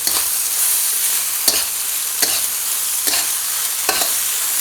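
Warm fried pork is stirred into fried rice in a hot pan, a loud continuous sizzle cut by regular scraping strokes of a spatula, close up with no talking.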